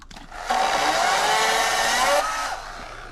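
A chainsaw cuts through rotten trees outdoors with a short, loud, buzzing burst of about two seconds before easing off.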